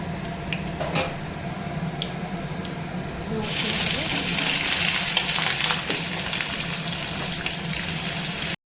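Whole cumin, dried red chillies and bay leaf go into hot oil. A quiet hiss with scattered clicks becomes a louder, continuous crackling sizzle about a third of the way in and holds steady until it cuts off.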